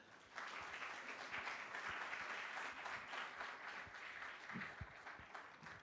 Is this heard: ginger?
no